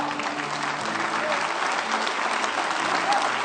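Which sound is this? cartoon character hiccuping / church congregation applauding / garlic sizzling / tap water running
church congregation applauding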